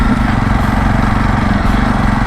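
A Jawa Perak motorcycle engine pulling hard on an open road, a loud, steady, throbbing exhaust drone close up with constant pulsing beats and no pauses.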